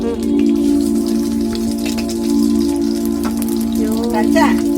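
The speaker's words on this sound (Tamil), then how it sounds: "வெட்டின வெங்காயம் போடணும். ஒரு நிமிஷம் பொரியட்டும்." Chopped onions crackling in hot oil over a rocket stove, a loud, continuous dense sizzle close up that runs through the whole stretch with a steady low hum beneath.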